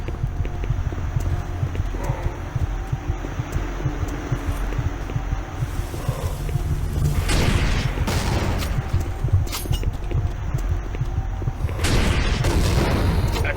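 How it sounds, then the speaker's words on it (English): Rocket launcher fire and combat against a chaingun zombie in the video game Doom 3, heard as rapid bursts of booming blasts and clattering gunfire that grow denser and louder in the second half, with no voices. "I took him out with a rocket launcher there"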